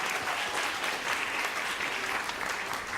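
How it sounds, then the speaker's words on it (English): Steady, dense applause from an audience at a school talk on girls in tech, continuous and even throughout with no voices over it. "I want to give a round of applause to the organizers and to the school for supporting us."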